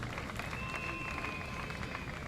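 A large outdoor crowd at an interfaith prayer gathering on the esplanade of the Palais du Peuple claps for political party leaders, a dense steady wash of applause that holds throughout with faint crowd noise mixed in.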